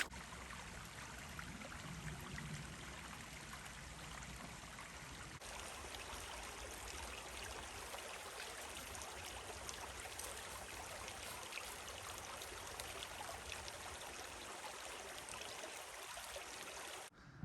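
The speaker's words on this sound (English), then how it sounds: "Creek's getting bigger and bigger." A widening creek flows steadily nearby with a continuous broad rush and trickle of water over its bed, loud and even for the whole stretch with no talking.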